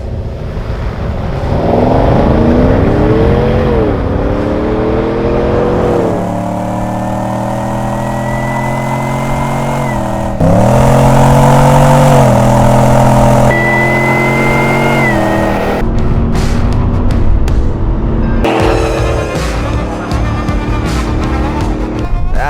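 A modified Chevrolet Tahoe H600 accelerates hard, its engine roaring loud and close with repeated rising sweeps as it climbs through the gears, cutting off briefly between shifts before surging again.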